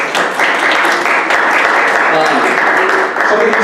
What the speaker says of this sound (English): So let me give a round of applause.